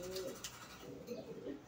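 Pigeons cooing at a rooftop loft in Vedado, Havana, where racing pigeons are kept; soft, low throaty coos repeat at a steady moderate distance over a faint outdoor background.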